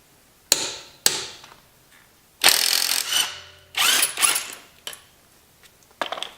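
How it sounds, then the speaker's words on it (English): A 24-volt Goodyear cordless impact driver works a car wheel lug nut: a few sharp clicks, then two loud, close bursts of rapid hammering, each about a second long, and fainter clatter afterwards. "see what my 24 volt Goodyear impact driver can do"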